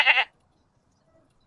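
A single goat bleats once, short and fairly loud, then quiet follows with no other sound.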